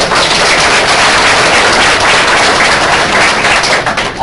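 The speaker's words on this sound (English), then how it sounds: "Round of applause for all of you." Staff at a Tri County meeting give a round of applause, dense and loud clapping that holds steady for about four seconds before tapering slightly at the end.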